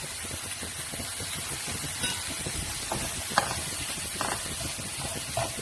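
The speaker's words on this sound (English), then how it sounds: "cook it on a slow flame so that the mushroom gets cooked easily and starts sweating" Mushrooms cook gently in a pan over a slow flame, giving a soft continuous sizzle with occasional faint stirring clicks and scrapes, steady and quiet throughout.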